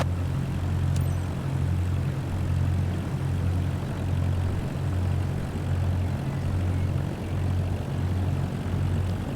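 Propeller airplane engine in Microsoft Flight Simulator 2024, a steady loud drone with a strong low hum that holds evenly throughout, pulsing slightly, with no talk.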